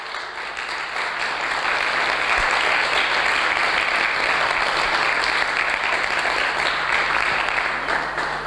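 A church congregation applauds loudly and continuously, a thick, unbroken roar of many hands clapping that holds steady for several seconds with faint crowd noise beneath.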